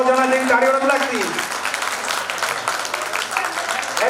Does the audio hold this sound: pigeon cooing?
no